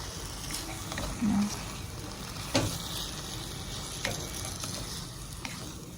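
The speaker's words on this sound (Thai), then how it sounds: "ก็ผัดผัดไปเรื่อยๆค่ะผัดให้มะเขือเทศเขาสุกค่ะ" Blended tomatoes stir-fried in a pan for a spinach and potato curry, giving a steady sizzle with occasional utensil scrapes and clicks, fairly quiet and even throughout.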